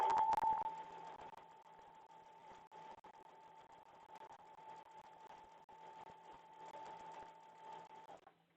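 A sewing machine stitches steadily with a constant high hum and rapid mechanical rhythm, fairly quiet, running without pause until it stops near the end.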